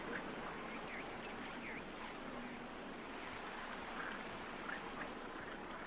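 Flowing water in a video game rushes steadily with a broad, even hiss, faint and continuous, and a few birds call briefly in the background.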